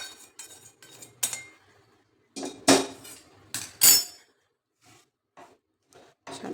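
Hot sugar syrup is stirred into a roasted mixture in a pan for a quick motichoor-style sweet, with sharp metallic clinks and scrapes of a spoon against the pan in irregular bursts separated by short silences, close and without talk.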